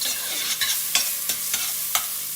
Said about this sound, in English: To that we're going to add some capers.